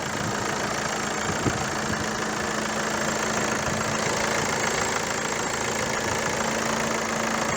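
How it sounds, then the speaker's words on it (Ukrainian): A 2020 Seat Alhambra car engine idles evenly and calmly, a steady low hum with no knocks or sputters, constant throughout. "Двигун працює рівнесенько, спокійно, без лишніх так як звуки."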